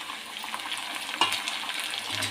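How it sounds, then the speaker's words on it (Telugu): Tomato pieces added to a pan of onions and frying, a steady close sizzle and crackle with a brief clatter partway through and soft stirring sounds, no talking. "ముందుగా మనం కట్ చేసి పెట్టుకున్న టమాటా పీసెస్ వేసుకోవాలి"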